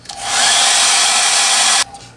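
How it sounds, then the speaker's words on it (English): A hair dryer blows on a DIY Playmates MechaGodzilla figure, a loud, close, continuous airy whoosh that starts up, holds steady for nearly two seconds and then cuts off abruptly. "just take my hairdryer."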